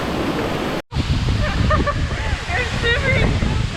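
Sekumpul waterfall, a strong and windy cascade, pours in a loud, continuous roar that fills the scene, with a short dropout early on and faint voices murmuring beneath the rush.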